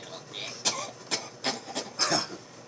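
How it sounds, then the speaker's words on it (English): Several short, sharp coughs in a row, spaced about half a second apart, fairly close and moderately loud against a quiet background. "Boy, you cough a lot."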